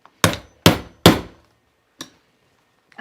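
Hammering during a sewing project, three sharp, loud blows in quick succession, then a lighter strike after a pause and the start of another at the end, each with a short ringing decay.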